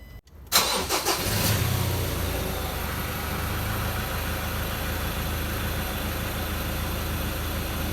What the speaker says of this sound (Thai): แล้วเดี๋ยวเราไปลองสตาร์ทดูนะครับ ว่าจะติดไม่ติด